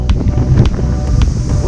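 Strong wind buffets the microphone beside a lake, a loud continuous rumble with gusty low roar throughout.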